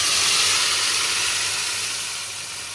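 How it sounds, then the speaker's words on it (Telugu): Raw chili-onion masala paste gravy hits hot oil in a pan, giving a loud, dense sizzle and hiss that fades slightly over a few seconds, with no talk. "మొత్తం గ్రేవీ, ఇప్పుడు ఇది ఆయిల్లో వేసుకోవాలి."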